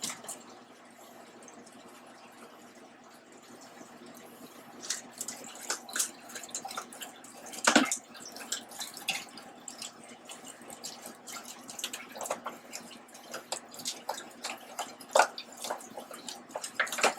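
Water drains and splashes during home brewing as a hot wort is crashed with ice water, a trickling, dripping flow with irregular splashes and one sharp clatter midway, fairly close with no talking.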